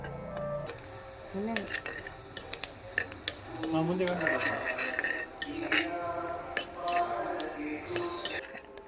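Ingredients for pirandai powder, with urad dal, are sautéed in a pan: steady stirring with scattered metallic clinks of a spoon on the pan and a soft sizzle underneath, moderately quiet and close.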